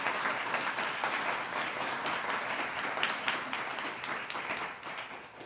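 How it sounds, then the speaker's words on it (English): An audience at an Emancipation Day plenary session applauds committee members standing in recognition, a fairly distant, continuous patter of many clapping hands that holds steady and thins slightly toward the end. "Let's give them a round of applause."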